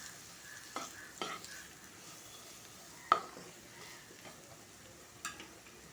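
Potatoes frying in a pan with salt, turmeric and chili, a soft continuous sizzle broken by a few distinct scrapes and knocks of a spatula stirring, close and fairly quiet with no talking.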